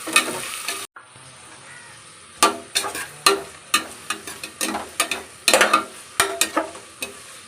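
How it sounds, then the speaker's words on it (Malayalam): Onions sizzle steadily in a hot pan while a spoon scrapes and stirs in quick, irregular strokes, close by. "സവാള ഇട്ടിട്ട് നല്ല പോലെ ഇളക്കി കൊടുക്കാം"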